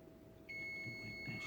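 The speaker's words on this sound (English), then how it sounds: "Timer, chef." A kitchen timer gives a thin, steady high-pitched electronic tone over a low hum of background room noise, faint and continuous through most of the moment with no talking.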